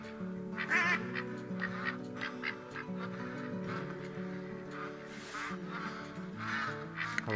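A flock of ducks in TheHunter: Call of the Wild hunting game quacks and honks in repeated bursts over a layered, tonal background, calls scattered at moderate distance throughout.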